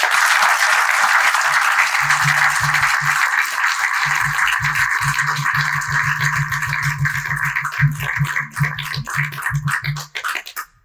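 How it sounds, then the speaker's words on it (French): An audience at a poetry society gathering applauds steadily for over ten seconds, with a rattling, rhythmic low tone running through the clapping as it thins toward the end. "elle mérite quelques petits applaudissements pour ça"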